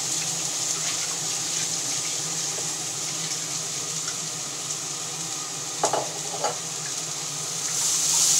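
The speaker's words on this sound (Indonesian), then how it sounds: "Ini ibu tumis sayur togenya ya" Bean sprouts stir-fried in a home kitchen pan, a soft, steady sizzle running throughout at moderate distance, with a couple of brief clatters near the end.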